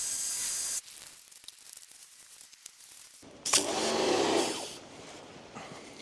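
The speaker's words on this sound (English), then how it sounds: "I'm just going to rinse out." A water spray rinsing down a car comes in a steady hiss, drops out to quiet dripping and rustling, then returns as a louder, close, broad rush of spray hitting the bodywork.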